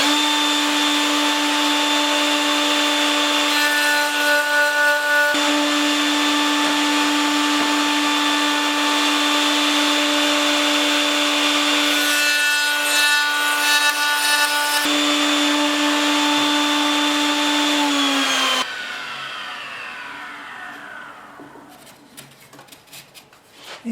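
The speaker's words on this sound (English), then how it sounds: "I'm cutting the dovetail on the end now because it's easier." Steady whining machine tone with a rough sawing texture cutting a wood dovetail for about eighteen seconds, then it winds down and fades into scattered clicks.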